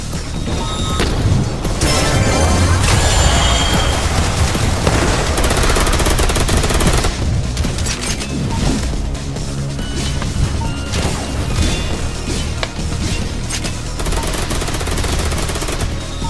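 Gunfire in the Roblox game Phighting: loud, dense and continuous shooting with crashes and impacts, layered over a busy game mix throughout.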